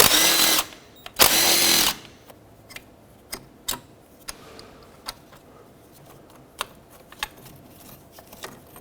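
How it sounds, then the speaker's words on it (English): A 13mm socket ratchet loosens two bolts on a 2007-2009 Saturn Aura engine, with bursts of a power tool at first, then a slow series of crisp, close clicks and ticks. "With a 13mm socket, remove both of these two bolts."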